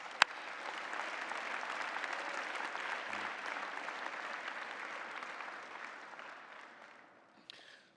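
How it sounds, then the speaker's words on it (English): Steady audience applause at an assembly, a dense wash of clapping from a sizeable crowd that holds evenly for several seconds and then tapers off near the end. "I want to give him a hand of applause."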